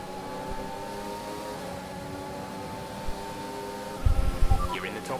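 Vettel's red Ferrari Formula 1 car in F1 2021, a sustained high engine whine with steady harmonic tones, moderately loud, with a few low thumps near the end.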